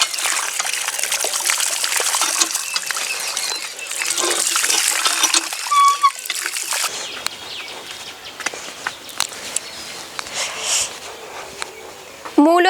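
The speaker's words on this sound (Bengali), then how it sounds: "মূলোগুলো ধুয়ে নিয়ে যাব," Muddy radishes are rinsed in water with a continuous trickling, splashing wash close by, easing into quieter drips and handling noises, with faint birdsong and a voice in the background.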